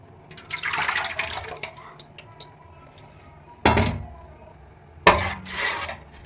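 Water is drained off a ground fufu mixture in a kitchen, heard as a soft trickle followed by two sharp splashing pours. The pours are close and separated by brief quiet.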